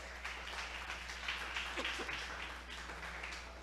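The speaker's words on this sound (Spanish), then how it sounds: "Vamos a darle un aplauso al Señor" A church congregation applauds during a service, a steady wash of clapping that holds evenly throughout at a modest level, with some voices mixed in.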